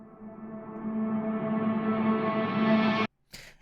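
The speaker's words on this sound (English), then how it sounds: "we have a swell, which sounds like this." An electric guitar swell with reverb, a sustained tone fading in and slowly brightening for about three seconds before cutting off abruptly, followed by a short burst.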